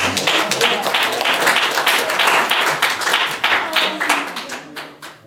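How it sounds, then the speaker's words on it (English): Conference audience giving a round of applause in a lecture hall, dense clapping from many hands that holds steady, then thins and tapers off over about five seconds. "let's give a round of applause to this conference"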